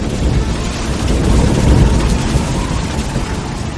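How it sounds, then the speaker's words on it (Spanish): A thunderstorm gives a heavy, sustained rumble of thunder that swells and rolls over a wash of rain-like noise, loud and close, with no voices. "Entonces la tormenta estalló en toda su cólera. 3 rayos cruzaron el cielo en dirección a la tierra."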